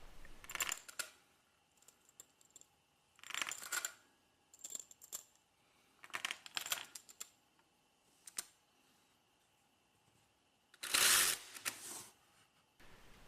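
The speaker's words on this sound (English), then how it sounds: "Then mount the magazine to the magazine well, place 30 rounds between the rails, and give it a test run" A DIY magazine loader pushes 30 rounds into a rifle magazine, making a series of close, crisp metallic clicks and rattling clacks in irregular bursts separated by quiet pauses.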